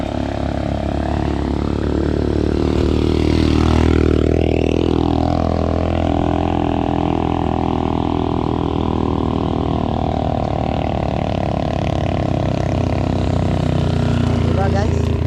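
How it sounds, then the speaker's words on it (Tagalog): A motorcycle engine drones continuously and loud, labouring uphill with wavering pitch as it strains. "Hirap na hirap din yung motor."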